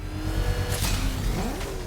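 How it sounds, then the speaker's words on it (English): A car engine revving in the Batman Arkham Origins video game, a short rising and falling mechanical whine with a throaty low rumble under it, heard alone without talk. "Get in there, rev engine. Rev that shit."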